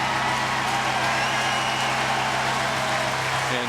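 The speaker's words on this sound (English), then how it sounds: "And the cheer is for the capture." A ballpark crowd at a 2013 Men's College World Series finals game between UCLA and Mississippi State roars and applauds in a steady, dense wash of cheering as security catches a fan who ran onto the field.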